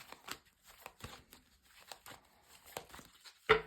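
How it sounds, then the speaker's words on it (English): Tarot cards are shuffled by hand in a series of crisp riffles and soft slaps, close and quiet, ending with one sharper snap. "So first of all, a good shuffle."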